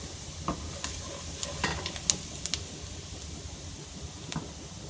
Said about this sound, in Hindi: ऑयल थोड़ा गर्म हो चुका है कढ़ाई में। इसमें हम डाल देंगे 1 टीस्पून जीरा, साबुत जीरा।